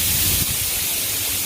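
Wasp spray hisses from an aerosol can in one steady, loud, close burst lasting the whole moment, with no voices.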